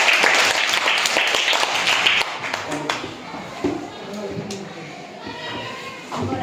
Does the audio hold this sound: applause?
yes